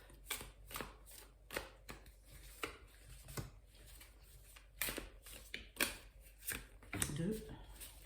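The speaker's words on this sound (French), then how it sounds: "Alors, nous allons tirer 5 cartes." Tarot cards are drawn and laid down one after another in a series of short crisp slaps and flicks, close and fairly quiet, while someone speaks French over them.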